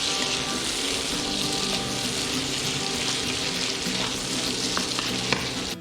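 Pork, mushrooms and keto noodles sizzle steadily in a hot pan while being stir-fried, a continuous close frying hiss with occasional soft scrapes of stirring.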